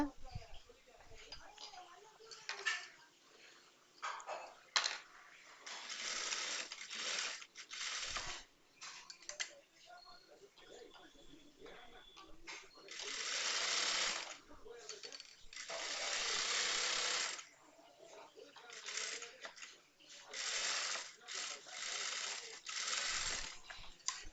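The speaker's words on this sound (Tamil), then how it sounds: "அதே மாதிரி இந்த இடத்துல 3 இல்லைன்னா 4 தையல் போட்டுக்குங்க" A sewing machine stitches a blouse in bursts of whirring, rattling needle action, some short and some several seconds long, separated by quiet pauses.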